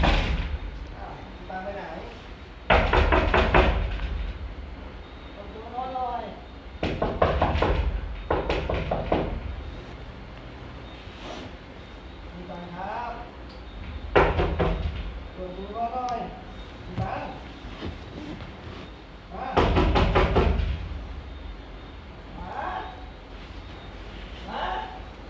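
Someone knocks on a house door in several separate bursts of rapid knocks spread across the stretch, with voices talking between them.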